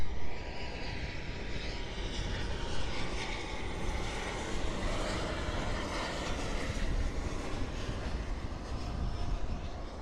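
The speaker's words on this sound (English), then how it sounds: "arriving south on runway 9 is American Airlines flight AA1160 from Santo Domingo. It's a 737 MAX 8." An American Airlines Boeing 737 MAX 8, flight from Santo Domingo, arrives on runway 9 at Miami International Airport with a continuous jet engine roar and rumble, fairly steady across ten seconds with some wavering whine.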